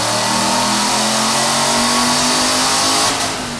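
A 2011-2014 manual Mustang GT with a Vortech supercharger on a dyno: a loud, close engine holds a sustained high-rev pull with a rising whine, then backs off in the last moment.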